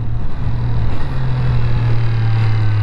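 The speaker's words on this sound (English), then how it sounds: "I hope you're getting some good sound from that exhaust as well." A Triumph Street Triple 765 RS motorcycle, with a quick shifter and auto blipper, idling close by with a loud, steady low exhaust drone and a slight rise in pitch partway through.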